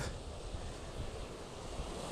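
Ocean waves washing along the coast at Cliff Head, a steady windy roar of surf with gentle swells and no voices.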